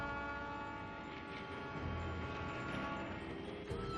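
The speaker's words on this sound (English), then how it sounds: "This railway in Switzerland uses cogs instead of normal wheels to crank its way uphill." A Swiss cog railway train cranks its way uphill on a mountain line, a steady low mechanical rumble with a faint horn-like tone, heard alone and fairly quiet.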